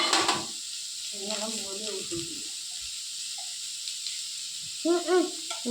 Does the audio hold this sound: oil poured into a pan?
yes